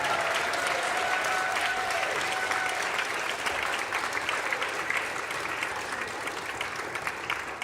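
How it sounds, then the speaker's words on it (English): Audience at a Sunday morning service claps for religious education volunteers, a steady wash of many hands sustained throughout at moderate loudness, with no talking over it. "now we can give an applause for our RE volunteers who are here"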